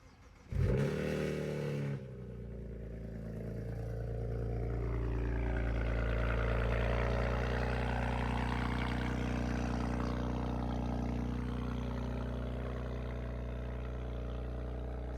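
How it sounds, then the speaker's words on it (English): A BMW E92 335i N54 engine cold start: it cranks and catches with a sharp burst, then settles into a loud, steady idle that rises slightly before holding a constant rumble. "And here's a little cold start."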